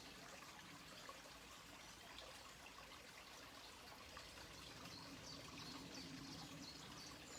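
Continuous soft trickling and gurgling of a flowing stream, steady throughout, with faint chirps of birds mixed in the background.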